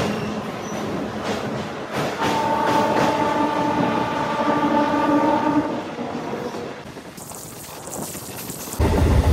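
The Udaya Express from Visakhapatnam to Guntur rushes past on the adjacent line, a loud rumbling roar of wheels and carriages with rhythmic clatter, heard close from a moving train before fading near the end.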